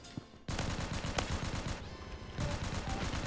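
Rapid, loud gunfire from a pistol in the Roblox shooter Phantom Forces runs almost continuously after a short quiet start, with a distinct crack midway and a brief dip before it resumes.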